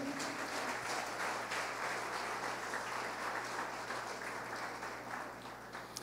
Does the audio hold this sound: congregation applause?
yes